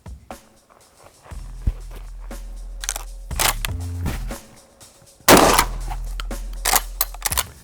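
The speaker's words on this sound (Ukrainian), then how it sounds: "Я зроблю постріл картечу без поправки." Several sharp, loud shotgun blasts firing buckshot with gaps between them, one especially powerful shot near the end, amid quieter handling noises and footsteps.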